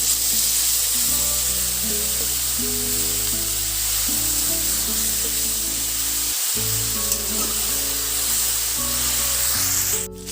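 Cumin powder paste mixed with water hits hot oil in a pan, bursting into a loud, dense, steady sizzle that holds close and continuous, with faint scraping underneath and no talk.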